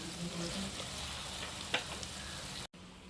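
Home-style chicken fry sizzles in shallow oil with a soft, continuous crackle and a few sharper pops; the sound cuts out for an instant near the end and then resumes, with no voices.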